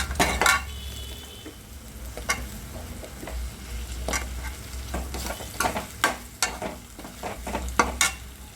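Drumstick pods and mixed vegetables drop into a hot pan for Sangli-style bhogi bhaji, sizzling continuously while a spoon scrapes and clinks against the metal in a series of sharp, close strokes.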